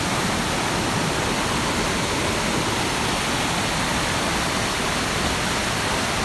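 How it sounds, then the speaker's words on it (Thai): Luang Siriphum waterfall pours in a constant, loud, even rush of falling water, filling the scene with unbroken white-noise roar and no voices. "ครับก็คือน้ำตกหลวงสีภูมิ"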